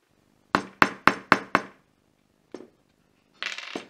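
A hammer strikes a metal eyelet attacher to set an eyelet in leather, five sharp, close taps in quick even succession, then a single softer knock and a brief scraping clatter.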